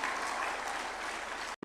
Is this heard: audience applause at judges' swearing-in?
yes